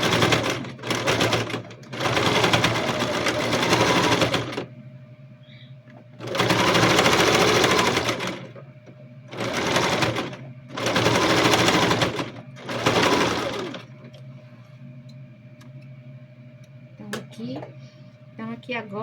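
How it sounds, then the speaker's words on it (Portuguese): A sewing machine stitches a reinforcing seam on a child's backpack in several loud, close bursts of rapid whirring, separated by quiet pauses with faint handling sounds. "aqui eu venho e passo outra costurinha aqui pra reforçar"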